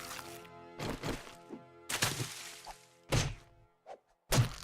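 A melee weapon hacks repeatedly at a kill in 7 Days to Die, giving heavy, irregular thunks and thwacks, about half a dozen solid impacts close up and alone.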